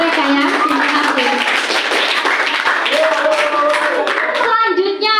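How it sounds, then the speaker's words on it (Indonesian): Hands clapping in classroom applause for a group of students who have just presented, dense and steady throughout with children's voices and chatter mixed in. "Tepuk tangan dulu sekali lagi ya untuk mereka ya."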